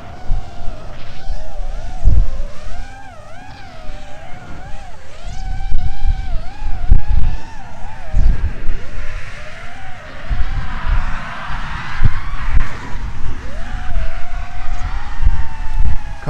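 FPV drone in flight, motors and propellers buzzing with a continuous whine that rises and falls in pitch as the throttle changes, loud and near throughout.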